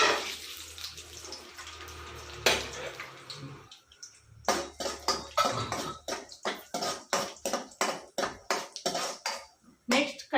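Peanuts fry in a little hot oil in a pan while cooking Shivamogga-style lemon rice: a soft sizzle, then a rhythmic run of scraping, clinking stirs, close by.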